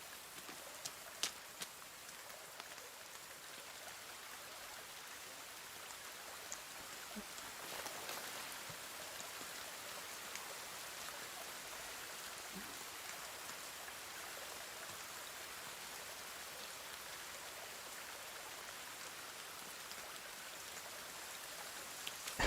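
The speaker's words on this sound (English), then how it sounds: "This rain is very loud still." Constant rain in the PC survival game The Forest, a soft, even patter of drops on surfaces that runs unbroken and fairly quiet, with a few faint taps and knocks scattered through it.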